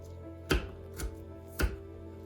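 A knife chops through an onion on a cutting board, dicing it into small cubes in a home kitchen, three distinct close thuds spaced about half a second apart over a low background hum.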